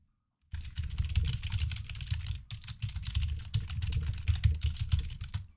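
A computer keyboard is handled while being unplugged during a desk setup cleaning, with dense, close clicks and clacks of keys and plastic, plus low bumping thuds, continuing steadily after a brief silent start.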